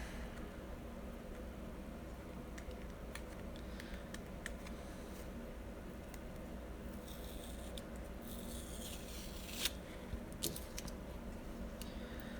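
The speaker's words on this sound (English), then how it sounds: "I'll let you admire that while I peel some more tape here" Tape is peeled off trading cards in a quiet room, soft sticky rips and small crinkles scattered through the stretch, with a few sharper snaps near the end, faint and close.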